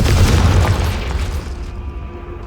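The Confringo fire spell from the video game Hogwarts Legacy bursts in a single loud, booming explosion that rumbles deep at first and then fades over about two seconds.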